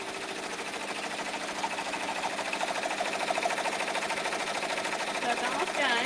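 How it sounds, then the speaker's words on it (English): Embroidery machine stitching a monogram onto a pot holder, a continuous rapid mechanical chatter that holds steady and close for the whole stretch. "let's go over to the embroidery machine, and we'll check on our monogram"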